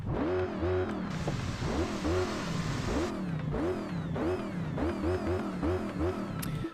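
A Volkswagen Jetta in the racing game Test Drive Unlimited 2 revs its engine over and over, each rev climbing and dropping in a steady rhythm, loud and constant, with no speech.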